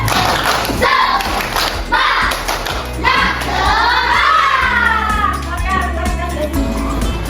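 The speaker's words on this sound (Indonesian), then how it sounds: "Tapi sebelum itu kita harus tepuk semangat dulu. Tepuk semangat." Schoolchildren in a fourth-grade classroom do a rhythmic spirit clap, tepuk semangat, before a civics lesson. Loud patterned claps and thumps mix with children's chanting voices throughout.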